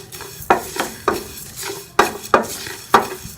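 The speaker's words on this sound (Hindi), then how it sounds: "अब इसी पैन के अंदर हम ये सूखा धनिया और ज़ीरे को भी रोस्ट कर लेंगे।" Coriander seeds and cumin are dry-roasted in a pan, with sharp scraping and stirring knocks of a utensil against the pan repeating every half second or so, close and clear.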